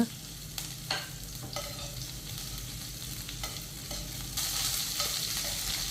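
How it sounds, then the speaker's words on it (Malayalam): Green chilli, ginger and curry leaves stirred as they fry in oil for a dates pickle, a steady soft sizzle broken by a few scraping stirs, with the frying growing louder toward the end. "ഇനി പച്ചമുളക് ചെറിയ കഷ്ണങ്ങളാക്കി അരിഞ്ഞ് ഇഞ്ചി കറിവേപ്പില ഇട്ടിട്ടൊന്ന് ഒന്ന് ഇളക്കി കൊടുക്കുക"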